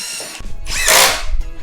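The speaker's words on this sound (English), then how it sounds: "If you drill right there, that should be fine." A power drill whirs briefly, revving up and biting into a wooden board with a grinding, ratcheting buzz up close, then winding down.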